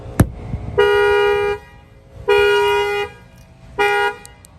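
A sharp bang on a car window, then a 2021 Honda Accord factory alarm horn blares three times in long, loud steady honks, close by.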